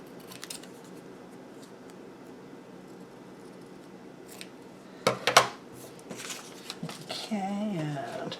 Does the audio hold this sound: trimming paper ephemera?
yes